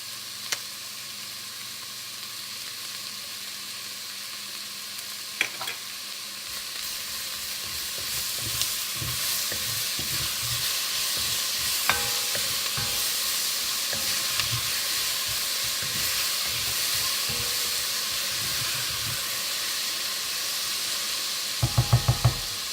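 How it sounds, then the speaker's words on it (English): Onions caramelizing with a little sugar in a frying pan, a steady close hiss of sizzling with intermittent knocks and scrapes of stirring, growing busier after a quieter start, no talking. "Now I will caramelize the onions with a little bit of sugar."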